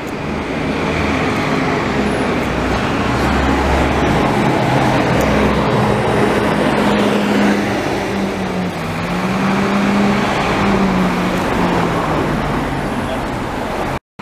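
A city bus moves through busy downtown street traffic on Rue St Laurent in Montreal. The steady, loud roadway roar and engine drone continue without a break, with faint voices mixed in.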